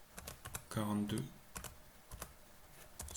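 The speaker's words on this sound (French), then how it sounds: "Je peux remonter avec les flèches du clavier." Arrow keys pressed on a computer keyboard, a series of sharp, separate clicks spread across the moment while someone speaks quietly between them.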